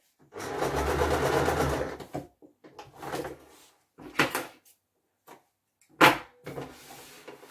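A sewing machine stitches a reversible satin hair bonnet with an Ankara design: one long, steady run of stitching is followed by several short, separate bursts and pauses, close and clear with no talking.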